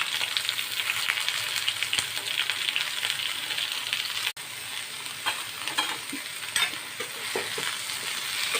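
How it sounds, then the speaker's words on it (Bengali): Ridge gourd fries in mustard oil in a kadai and sizzles steadily while a spatula stirs it. The stirring gives scraping clinks against the pan, close and loud, with no voice. "ঝিঙেটা নেড়ে নিচ্ছি"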